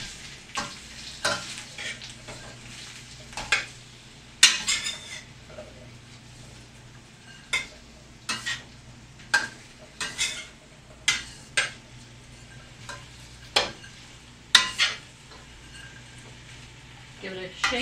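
Radish and onion frying in a pan at a barbecue, a soft sizzle running underneath while a utensil scrapes and clacks against the pan in irregular stirring strokes.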